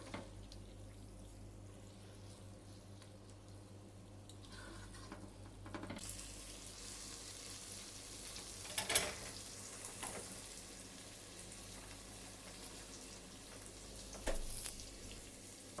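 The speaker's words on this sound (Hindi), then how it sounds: "इस तरह से मिर्चें डालने के बाद 1 से 2 मिनट के लिए इसको इसी तरह से भून लेंगे" Chilies frying in a pan for mutton ginger karahi, a soft steady sizzle that grows after a few seconds, with occasional louder stirring scrapes and clinks close by.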